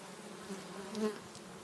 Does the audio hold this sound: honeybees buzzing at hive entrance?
yes